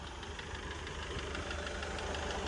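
A 2007 Sprinter van with a 2.2 CDI engine idling, giving a steady, close mechanical rumble with a faint knocking edge that runs unbroken throughout, with no talking.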